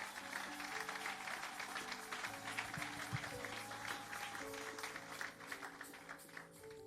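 A church congregation claps and cheers at a French-language worship service, a steady, dense applause filling the room from start to finish with music tones underneath.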